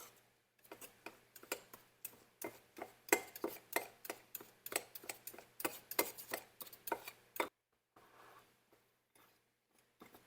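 A pastry blender cuts through dog treat dough in a bowl, producing a quick series of close, sharp knocking and scraping strokes in an uneven rhythm before stopping, followed by a few faint taps.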